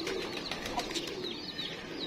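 Pure Imam Deen pigeons coo softly amid light chirps and a brief flutter of wings, a steady low murmur of birds close by with no talking.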